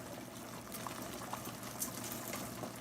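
Lasagna pasta sheets bubble in a pot of boiling water, giving a steady rolling churn with small pops and gurgles and no talk over it.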